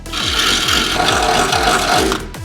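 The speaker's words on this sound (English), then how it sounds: "So marking the holes on the inside of the door this time, we can drill them through," Power drill boring holes through a Land Rover Defender's metal door with a loud, close, steady grinding whine and a rapid rhythmic chatter, ending abruptly.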